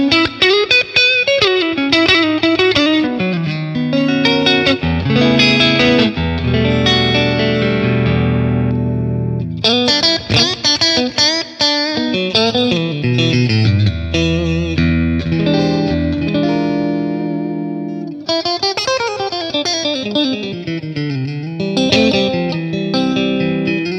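Electric guitar played through a Matchless Laurel Canyon amp with lush reverb, flowing melodic lines and sustained chords ringing out continuously, loud and close with no talking.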